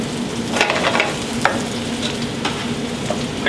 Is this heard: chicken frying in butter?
yes